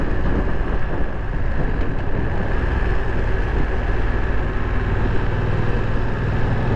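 A BMW F900 XR motorcycle engine runs steadily at low road speed, its low rumble mixed with heavy wind buffeting on the microphone throughout, with no talk.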